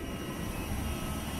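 A passenger airplane in flight gives a steady, broad engine roar and cabin rumble that fills the whole stretch evenly, heard from inside at moderate loudness with no talk.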